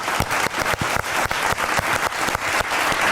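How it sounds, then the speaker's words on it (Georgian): A television studio audience claps in a fast, regular rhythm, with sharp, loud, evenly spaced beats and no voices. "აქ ტაში მჭირდება"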